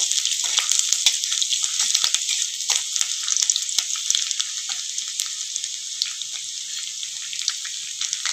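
Chopped garlic frying in a pan for a ridged gourd (kankrol) dish, giving a steady, close, bright hiss and crackle of hot oil that runs the whole time with small pops scattered through, and no talking.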